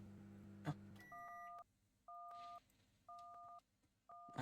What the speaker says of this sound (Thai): โทรศัพท์เข้านะครับจังหวะนี้